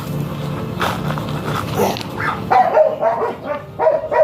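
Large dogs bark close by in a series of loud, uneven barks that grow more frequent toward the end, with some whimpering and background noise between them.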